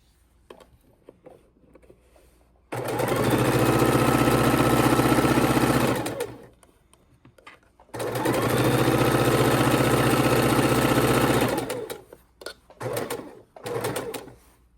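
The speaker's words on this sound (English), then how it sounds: "I started sewing." A sewing machine stitching scrappy quilt strips in two long, loud, steady runs of rapid stitching, separated by quiet pauses, with short bursts near the end.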